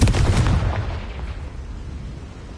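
A Confringo fire spell blasting in Hogwarts Legacy, one loud close burst that booms and then decays into a fading rumbling tail.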